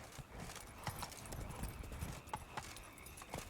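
A horse gallops in The Witcher 3, a fast steady clip-clop of hooves that runs throughout at a moderate, slightly distant level against game ambience.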